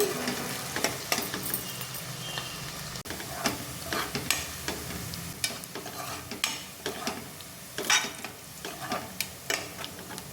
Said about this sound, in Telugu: ఇలా కట్ చేసుకున్న పచ్చిమిర్చి కూడా వేసుకొని ఉల్లిపాయలు అనేది బాగా ఫ్రై చేసుకోవాలండి